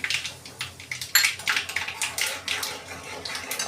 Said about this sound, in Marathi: राई जरी तडतडलेलं आहे